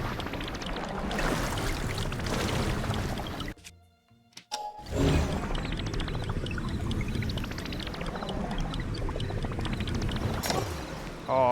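Link swimming through water in Zelda: Tears of the Kingdom, with steady splashing and sloshing that drops out briefly into near silence midway, then resumes loud and continuous.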